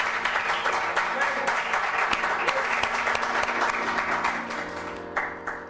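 A church congregation applauds with sustained, dense clapping from many hands. The sound stays even and loud, then thins near the end.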